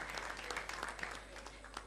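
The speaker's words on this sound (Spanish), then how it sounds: "Fuerte los aplausos, por favor." Steady applause from an audience at a departmental legislative assembly honor session in Cochabamba, with dense clapping that holds evenly for the whole stretch, no voices over it.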